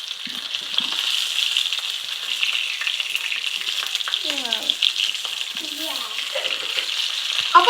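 Green fish frying in a pan, a steady close hiss of sizzling oil with faint pops and a few soft clinks, brief murmurs of voices in the background.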